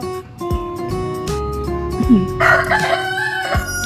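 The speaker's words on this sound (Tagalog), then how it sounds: "Ingay ng manok eh." A rooster crows loudly nearby in a drawn-out call, set against a steady electronic hum and a few knocks.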